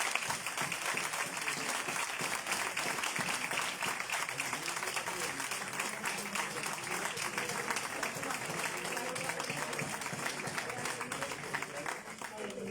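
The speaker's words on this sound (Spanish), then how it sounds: "El aplauso no iba a faltar, siempre lo pido al terminar." Audience applause closes a talk at the Ateneo de Madrid, a dense, steady wash of clapping that lasts the full stretch at even loudness, with voices murmuring underneath.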